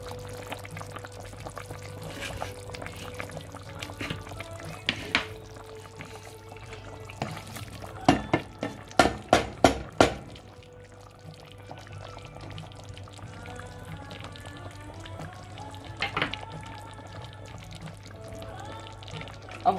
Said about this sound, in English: I will now add the green pepper and the butter bean.